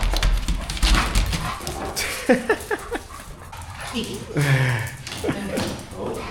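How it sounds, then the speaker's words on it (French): Dogs whine and whimper in short high-pitched bursts inside a hotel in Ecuador, over people talking and general room noise. "C'est trop drôle, il y a des chiens dans l'hôtel,"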